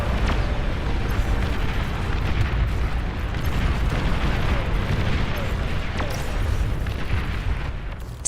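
A commander unit blows up in the real-time strategy game Beyond All Reason: a sustained, loud rumbling explosion with booming bursts that rolls on for several seconds before tapering slightly.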